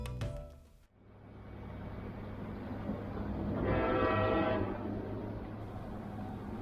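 A Brightline test train runs past on newly signaled track near Cocoa and Rockledge, a loud rumbling pass that swells to a peak with a brief tonal horn-like sound mid-clip, steady low rumble throughout.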